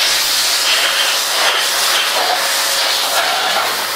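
An elevated metro train passes near Cat Linh station in Hanoi, a steady loud hissing rush with rail rumble that holds evenly throughout, heard alone without voices.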